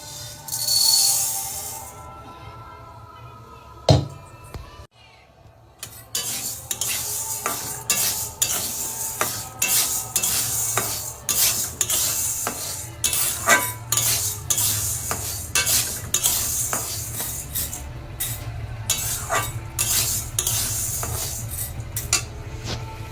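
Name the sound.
frying and stirring kalai lentils in a pan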